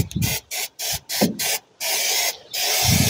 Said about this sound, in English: A good brake cleaner will clean this off very easily.